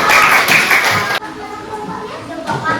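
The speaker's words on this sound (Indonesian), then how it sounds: "Silakan beri tepuk tangan buat kelompok 1." Classroom group applause for group 1 during a lesson, a burst of clapping for about a second, then it cuts off abruptly into quieter room noise with faint voices.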